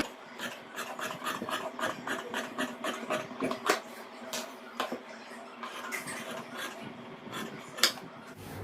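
Scissors cutting silk blouse fabric on a tailoring table, a steady series of soft rasping snips close by, repeated rhythmically at a low level.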